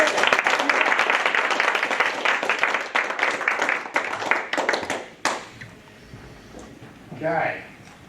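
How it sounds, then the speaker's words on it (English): An audience at a speaking event applauds a speaker in a dense burst of clapping that thins out after about five seconds, followed by quieter sounds and a brief voice. "Matthew, put your hands together."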